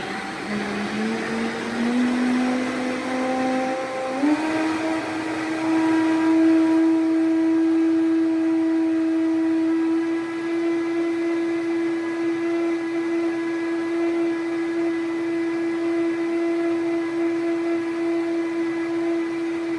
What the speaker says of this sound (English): I love that all I have to do is just put it all in the blender, blend it up